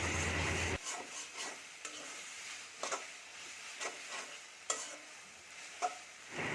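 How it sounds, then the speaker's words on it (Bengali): Chopped pumpkin leaves are stirred in a pan as they cook down, with a loud hiss at the start, then soft sizzling and occasional scraping clicks of the spoon. "শাকটা একটু পরপর বারবার করে নেড়ে দিতে হবে তা না হলে নিচ থেকে লেগে যাবে"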